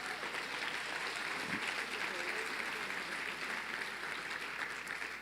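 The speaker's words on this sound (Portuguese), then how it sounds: "Será que pode aplaudir o Senhor pelos Raul?" A church congregation applauding during a sermon, a broad wash of clapping heard from a distance at low level, continuous and even throughout.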